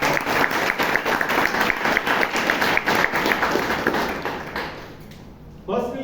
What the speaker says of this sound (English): So please give him a huge round of applause.